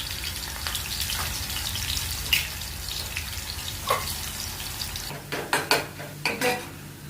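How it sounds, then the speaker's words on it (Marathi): Curry leaves with ginger-garlic paste and ground fresh coconut frying in oil for kaleji masala, a steady close sizzle broken near the end by several sharp scrapes and clinks of a spoon against the pan. "तर हे मस्त तेलामध्ये फ्राय झालेलं आहे."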